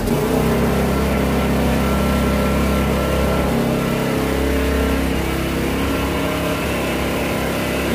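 EGI-2500 portable engine generator starting up and running indoors, a loud steady engine drone with a brief dip before settling into a continuous hum.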